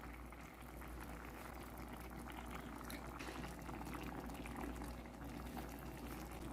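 Tomato sauce simmering in a wide, open pan, a steady dense bubbling and fizzing that stays low and continuous throughout, heard close up with no talk.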